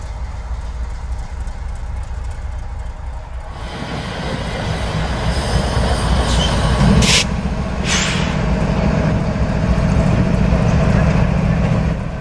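A model freight train, a northbound manifest on a Union Pacific central Texas layout, rolls steadily closer, its low rumble and rail clatter swelling after a quieter start and holding loud and continuous.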